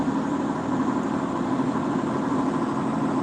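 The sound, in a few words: truck engine noise heard inside the cab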